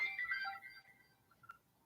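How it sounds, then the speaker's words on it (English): A phone ringtone goes off nearby, a bright melodic chime that plays for about a second and then trails off, followed by a brief single tone, with no talk over it. "my phone going off"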